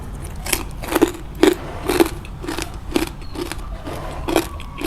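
Crispy pork rinds bitten and crunched up close, with about eight sharp, crackling bites spaced roughly half a second apart, alone without talk.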